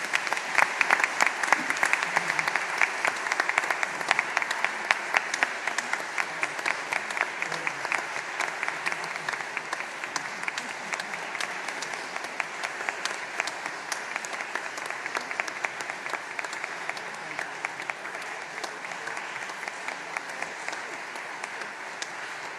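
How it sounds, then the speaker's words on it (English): Sustained audience applause at an academic conference opening ceremony, dense and steady for over twenty seconds, gradually thinning slightly toward the end. "And I think it deserves a big round of applause"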